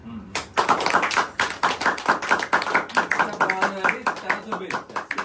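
A family clapping together at a night-out gathering, a dense burst of rapid, uneven applause lasting several seconds, with excited voices chattering over it.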